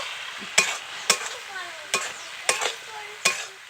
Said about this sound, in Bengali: এখন এর মধ্যে ভেজে রাখা আলু ও ক্যাপসিকামটাকে দিয়ে দেবো, দিয়ে একটু ভালো করে কষিয়ে নেব